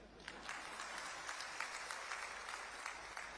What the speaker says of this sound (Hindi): इसलिए पुरुषों से मेरा निवेदन है कि ताली बजाओ।